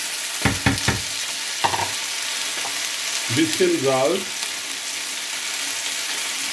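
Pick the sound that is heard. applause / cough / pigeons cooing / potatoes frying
potatoes frying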